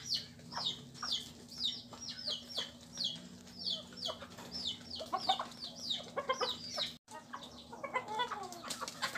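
Chickens cluck busily while feeding, rapid overlapping clucks and short calls coming close and fairly loud in a farm setting, with a brief rustle of wings and a low steady hum beneath.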